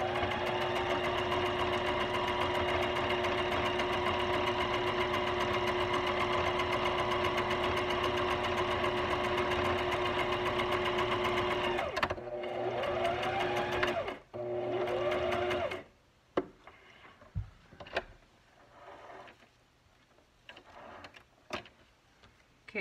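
A sewing machine motor whirs steadily for about twelve seconds, then stops and restarts in short bursts before giving way to scattered clicks and handling noises.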